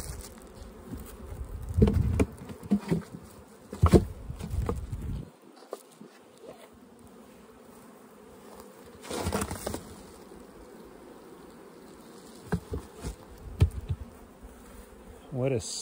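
Steady droning hum of many honey bees around hives, continuous and fairly close, with brief rustling bursts now and then.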